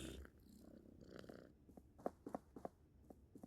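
A cat purrs in a video game, a close, low, rumbling purr with a steady pulsing rhythm that grows more distinct toward the end, with no talking over it.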